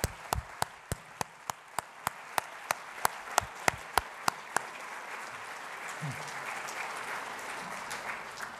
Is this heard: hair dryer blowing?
no